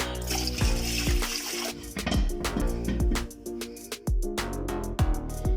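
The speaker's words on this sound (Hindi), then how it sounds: "मैं इसमें 2 जग के करीब पानी ऐड करती हूँ" Water pours steadily into a cooking pot while making kadhi pakora, a close, continuous gushing splash broken by brief pauses and clunks as about two jugs are emptied in.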